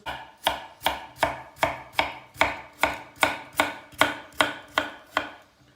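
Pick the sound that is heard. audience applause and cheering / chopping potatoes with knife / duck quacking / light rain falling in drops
chopping potatoes with knife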